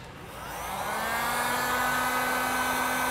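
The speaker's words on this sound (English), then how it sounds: "we'll go ahead and take our heat gun to it" Heat gun shrinking heat shrink butt connectors on trailer tail light wiring, a steady blowing whine that builds in the first second and then holds even and moderately loud, with no talk.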